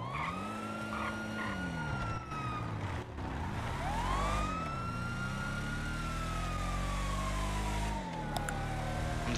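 A video game police car siren wails continuously, its pitch sweeping up and down, over a steady engine rumble.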